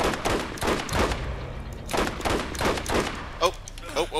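Rapid bursts of M14 marksman rifle fire in Borderlands, shots pelting down range in quick clusters against spider ants, with a voice talking between and over the shots.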